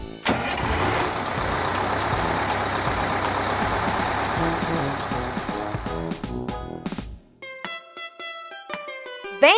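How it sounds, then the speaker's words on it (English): Double-decker bus engine rumbling steadily and loudly for several seconds, then cutting off as plucky music takes over. "Double-decker bus."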